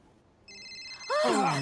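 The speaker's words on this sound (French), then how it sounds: "Oh! C'est mon téléphone." A mobile phone ringtone starts softly, then a brighter, louder melodic ring swells in and keeps chiming close by.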